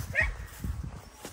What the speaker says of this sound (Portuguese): Os cachorros tá tudo bravo com ele.